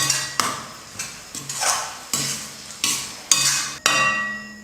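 Spoon stirring egg masala curry with tomato and green chilli in a pan, about eight rhythmic scraping strokes each with a sharp metallic onset and a fading swish, no voices.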